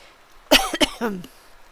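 A single person coughs a few times in quick succession, two sharp bursts followed by a shorter throaty one, close and fairly loud against a quiet room.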